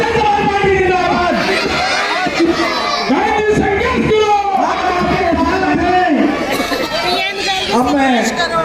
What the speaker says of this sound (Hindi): जोरदार नारे लगाए, बहुजन समाज पार्टी जिंदाबाद